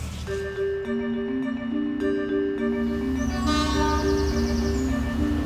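A train on a newly reopened railway bridge sounds a long multi-tone horn, sustained chords shifting pitch over a low rumble of the passing train, fairly loud and continuous.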